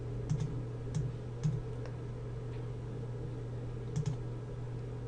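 Mouse clicks while formatting cells in an Excel spreadsheet, a few sharp, close clicks in small pairs and singles over a steady low hum, with no talking.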